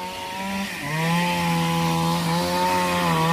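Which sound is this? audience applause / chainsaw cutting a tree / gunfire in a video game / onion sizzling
chainsaw cutting a tree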